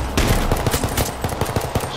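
Rapid automatic gunfire in the survival video game H1Z1 crackles in a quick burst of closely spaced loud shots over about two seconds, with no talking.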